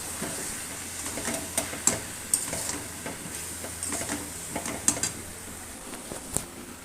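Potatoes with ground spices, salt, turmeric and chili powder sautéed in a pan, a steady soft sizzle with scraping spatula strokes and occasional clinks against the pan, no talking.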